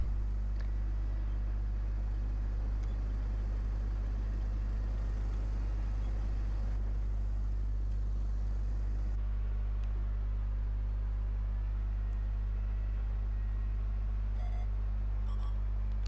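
KV5 heavy tank engine in World of Tanks, a steady low rumbling drone held throughout while the tank reverses, with faint clanks on top.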